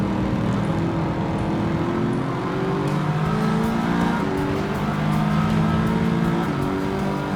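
Race cars in Gran Turismo 7 roar off the start in a dense pack, with steady loud engine drone and overlapping rising pitches as the cars accelerate, and no talking.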